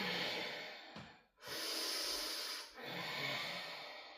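Slow yoga breathing in a pose, with two long, airy exhales, each separated by a short pause, heard close and fairly soft.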